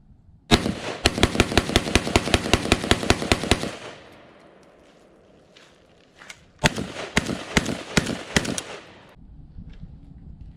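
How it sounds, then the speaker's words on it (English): A Polish Pioneer Arms AK underfolder rifle fires at an outdoor range in two rapid strings of loud, close shots with a pause between, each crack sharp and evenly spaced. "So let's go take it out there at the range and shoot it and see how it does."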